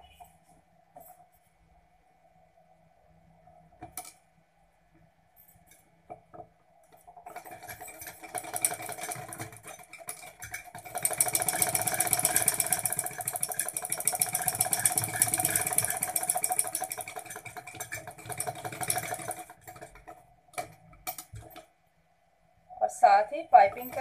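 Sewing machine stitching piping onto a garment neckline, a soft mechanical hum and rattle running for about ten seconds, with quieter handling sounds before and after.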